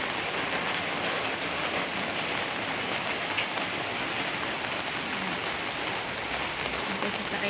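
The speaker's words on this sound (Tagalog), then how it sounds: "Kaya, palakas ng ulan." Heavy rain pours steadily, a dense, constant hiss with no breaks, close and loud throughout.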